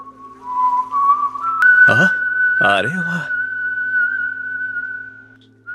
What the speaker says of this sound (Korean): 휘파람을 부는 포세이돈.